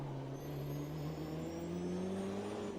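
A race car engine in the sim racing game Automobilista 2 holds a steady, smooth drone that rises slowly in pitch, as if building revs, running alone and fairly quiet without any talk.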